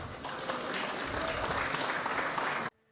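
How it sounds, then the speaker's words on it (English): Audience clapping steadily and fairly loud for a few seconds, then cutting off abruptly into near silence. "And they clapped."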